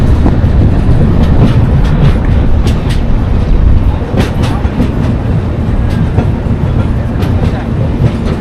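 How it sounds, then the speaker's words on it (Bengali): The 13009 Doon Express train rolling into Gosaiganj station, a loud steady rumble from onboard with repeated sharp wheel clacks and squeals over the rails. "আমাদের ট্রেন 849 কিলোমিটার জার্নি করে এসে পৌঁছেছে গোসাইগঞ্জ স্টেশনে"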